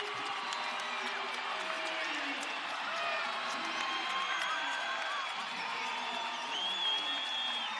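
Wrestling match crowd on its feet after a double-overtime upset, a broad wash of cheering, whoops and applause with an announcer talking over the roar.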